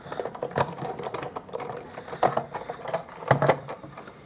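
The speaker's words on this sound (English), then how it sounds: "And I'll crank this through the big shot." Paper being cranked through a Big Shot die-cutting machine to cut a leaf shape: quiet, close clicks and ratcheting bursts repeat irregularly as the handle turns, with no talking.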